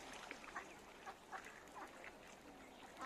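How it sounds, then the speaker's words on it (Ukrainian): Many ducks quack repeatedly in a busy chorus, overlapping calls over steady outdoor background noise, with pigeons also present, in Kharkiv in the evening. "Дивіться, скільки їх. Просто море качок."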